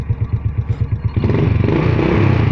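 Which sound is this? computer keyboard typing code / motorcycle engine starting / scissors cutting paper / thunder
motorcycle engine starting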